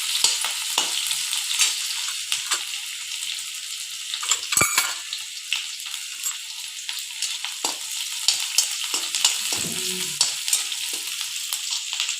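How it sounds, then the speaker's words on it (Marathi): Onion frying in a pan for a Vidarbha-style ukad pendhi, with a steady crackling sizzle, occasional stirring scrapes and a few sharp clinks of a spoon against the pan. "नंतर याच्यामध्येच आपल्याला कांदा घालायचा आहे आणि कांदा चांगला परतून घ्यायचा आहे"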